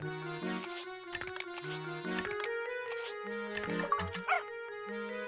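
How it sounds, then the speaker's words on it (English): A small robot dog in the Professor Layton and the Curious Village video game gives short synthetic yips and barks over steady tinkling game music, moderately quiet. "Oh my god, it's a dog."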